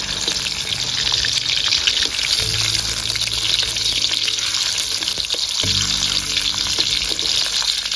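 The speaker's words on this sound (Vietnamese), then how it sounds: "đấy là mình sẽ chiên xúc xích mọi người nhé." Sausages fry in a pan of hot, bubbling oil, giving a loud, continuous sizzle and crackle heard close up with no one talking.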